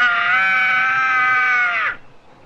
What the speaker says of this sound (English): Might have been a screech owl.